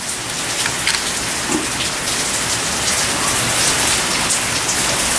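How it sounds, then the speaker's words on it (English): A heavy downpour drums on surfaces in a loud, constant roar of rain with scattered splashing drops, steady and without voices. "Well, the rain's really coming down now, so that's the noise you can hear in the background."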